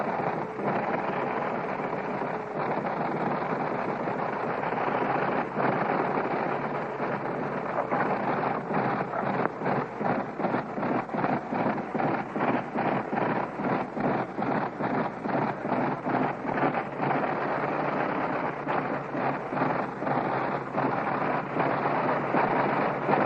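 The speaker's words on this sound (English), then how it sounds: "you can hear the sound of these 425 horses on this great Liberty engine" A 425-horsepower Liberty aircraft engine from a World War I airplane runs and warms up, giving a steady broadband roar with rapid rhythmic pulsing that grows quicker and more distinct, heard alone without talk.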